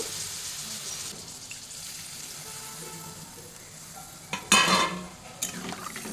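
Fried spice paste for a Rohu fish curry with cauliflower and potato hisses quietly in the pan until water is poured in, a loud, brief gushing splash followed by a smaller second splash.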